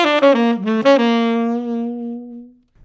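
Guitar plays a quick improvised run on an augmented scale, a few rapid notes that end on one long sustained note slowly fading out, clean and close.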